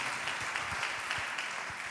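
A church congregation applauding during a Spanish-language sermon: a fairly faint, diffuse patter of many hands with a few more distinct claps standing out, steady throughout and carrying no speech.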